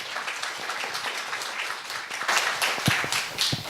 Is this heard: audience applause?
yes